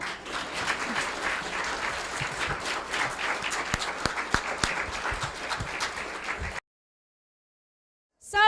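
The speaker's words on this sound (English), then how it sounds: "One more round of applause." Steady applause from a community orchestra audience fills the hall for about six and a half seconds, dense and even, then cuts off abruptly into silence.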